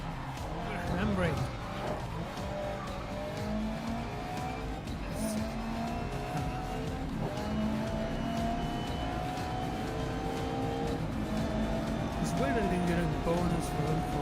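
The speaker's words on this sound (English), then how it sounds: "If you want to try a corner with a touch of handbrake, I'd like to see you control the slide." A car in the racing video game GRID Legends slides through a corner on the handbrake, engine droning and revving steadily with tire squeal rising near the start and end, over faint background voice.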